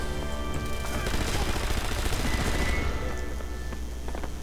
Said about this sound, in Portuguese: Exagerei nos tiros.